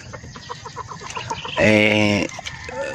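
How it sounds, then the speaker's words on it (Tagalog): Chicks on a farm peep rapidly and steadily at close range, with a louder, longer hen call rising briefly over them. "Ayun mga sisiw."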